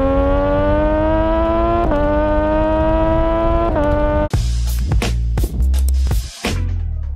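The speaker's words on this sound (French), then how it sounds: "Elle a un bruit, les gars, un 3 cylindres." A 675R three-cylinder motorcycle engine holds a steady, loud drone with a couple of brief blips, then switches to harsh revving bursts and sharp throttle changes in the second half.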